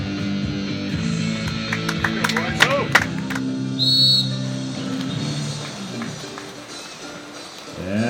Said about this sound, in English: as the whistle blows, the ring drops